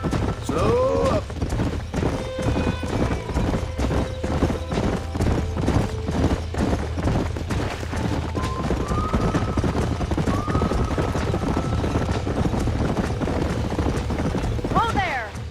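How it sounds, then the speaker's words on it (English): Galloping horses in a western ranch video game, with dense, rapid hoofbeats running steadily throughout and occasional whinnies over the clatter, while speech is heard in the mix. "These are fine horses."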